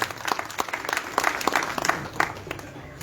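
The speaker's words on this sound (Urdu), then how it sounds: "اب میں ملتمس ہوں آپ کی بھرپور تالیوں میں" Audience applause at a Pakistani political rally for Kashmir Day, steady clapping from a crowd filling the space for a few seconds with no speech over it.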